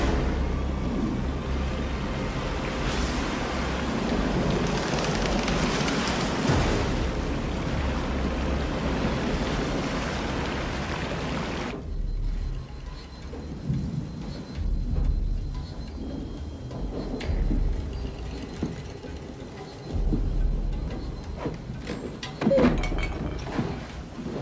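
A heavy storm at night with rain, giving a loud, steady roar of wind and rain that drops abruptly to a quieter rumble with scattered gusts and patters, and no voices.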